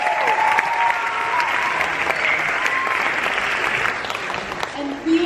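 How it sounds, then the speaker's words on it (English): Sustained applause from a book festival audience, steady dense clapping for about five seconds with a few voices audible over it near the start, easing slightly toward the end. "I think that deserves a round of applause"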